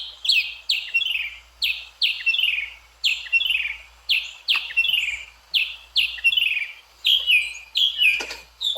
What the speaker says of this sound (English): and that bird is right close next to you.